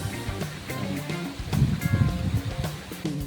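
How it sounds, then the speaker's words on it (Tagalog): Clear stream water flows at a forested resort pool, a steady close-up burble and trickle with splashy textures throughout, no talking over it. "Doon nga pala nanggagaling yung tubig. Yan, umaagos dito."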